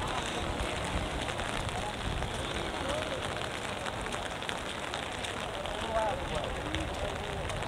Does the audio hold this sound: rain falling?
yes